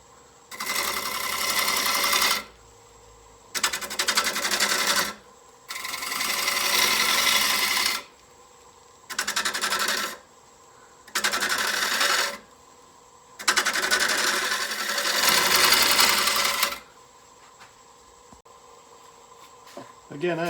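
A wood lathe takes light cuts on the tenon of a glued-up yin yang bowl, giving loud broadband scraping bursts of one to three seconds separated by short quiet gaps, with a low hum underneath.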